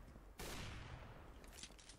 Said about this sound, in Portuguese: eu errei o meu tiro de AWP